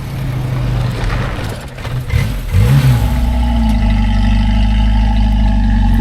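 Vintage 1929 Ford Model A engine pulling uphill, a close, loud low chugging drone that dips, then swells into a steady strained labour, with no one speaking.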